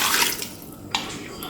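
Water poured into a cooking pot while making roasted mutton chops: a brief broadband splashing pour, loud at the start, fading, then a second short gush near the end, with no talk.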